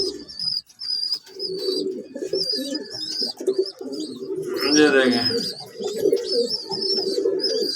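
Pigeons feeding their chicks up close, with soft cooing and repeated high chirps and squeaks from the young birds, under someone talking throughout.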